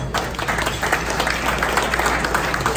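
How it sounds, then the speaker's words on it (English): Audience applause at a live podcast and networking launch event: a dense, continuous wash of many hands clapping throughout, fairly loud, with faint crowd noise underneath. "y'all clap it up for the 3 people to answer that question."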